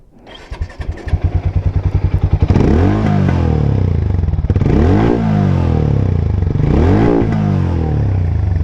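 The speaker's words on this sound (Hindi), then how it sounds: "तो ये आपका हीरो का एग्जॉस्ट था।" A Hero Mavrick 440 motorcycle cranks and fires up, then its exhaust is revved loudly three times, each rise and fall standing out against a steady idle, close by with no talk.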